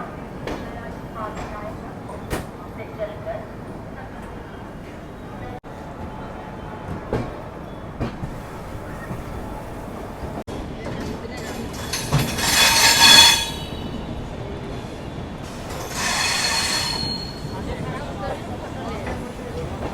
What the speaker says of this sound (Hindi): गाड़ी 16 मिनट जैसा रुकी और डिपार्ट कर रही है डीडीयू जंक्शन रेलवे स्टेशन से